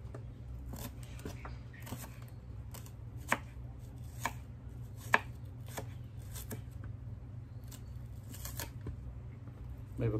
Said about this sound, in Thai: หั่นใบบักกูดแล้วก็หั่นหอมใส่นะพี่น้อง